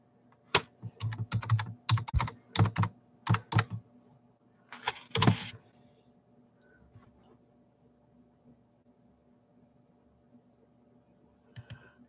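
Quick bursts of keyboard typing in uneven clusters, fairly close, then a pause with a few scattered clicks near the end.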